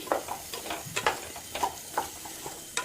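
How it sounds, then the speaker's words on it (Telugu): Drumstick (munakaya) curry seasoned with salt is stirred and fried in a pan, giving a soft sizzle broken by repeated scraping strokes of a spoon at a steady rhythm, close and fairly quiet, with no talking. "సాల్ట్ వేసుకొని బాగా ఫ్రై చేసుకోవాలి."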